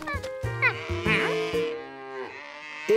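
Cartoon cows mooing in a run of short, pitched, musical moos beside a stone wall in a children's animated show, loud and close with some overlapping calls.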